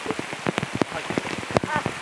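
Rain patters down outdoors during a summer trip in Japan, a steady scatter of close drops hitting surfaces, with faint voices now and then beneath the shower.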